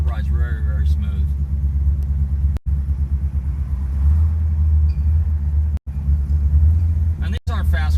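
A 1955 Mercury Montclair cruises smoothly along a side street, a steady low engine rumble and road noise running underneath, with occasional talk inside the car.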